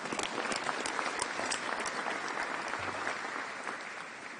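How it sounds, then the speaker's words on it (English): Press conference audience applauds at the introduction of a new USF men's basketball head coach, a steady, fairly distant wash of clapping that holds evenly throughout. "So give yourselves a round of applause."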